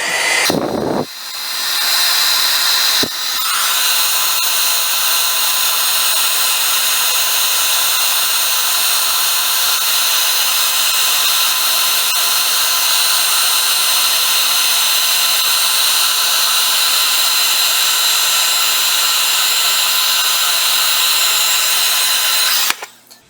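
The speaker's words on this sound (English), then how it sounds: "I'm going to let my heater heat up for a second" An embossing heat tool warms up for heat-setting on a Christmas shadow box card, giving a steady loud whirring blower hum that runs unbroken for about twenty seconds after a brief click at the start.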